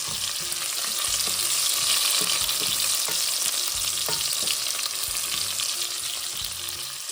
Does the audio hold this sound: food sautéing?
yes